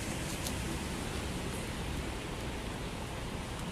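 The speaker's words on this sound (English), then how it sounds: "It's raining today for sure." Steady rain hisses outdoors on a New York City street, an even, dense wash of sound with no pauses and no talk.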